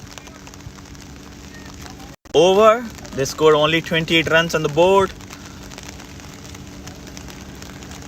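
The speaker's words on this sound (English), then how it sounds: "It's raining hard over here in Bokatan." Heavy rain pours down on an outdoor night cricket match, a steady hiss of falling drops throughout, with a commentator talking over it for a few seconds midway.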